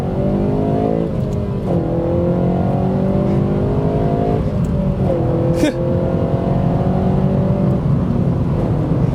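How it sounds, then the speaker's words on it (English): Inside a 2012 Honda Civic Si at high speed, a constant roar of road and wind noise fills the cabin while engine tone rises and settles through several gear changes. "You can see at high speeds, wind noises, well, road noise and wind noise."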